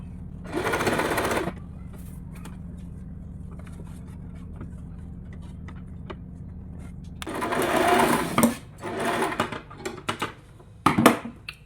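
A sewing machine stitching blouse cloth runs in a few loud, close bursts of rapid whirring, with quiet pauses and light handling clicks between runs.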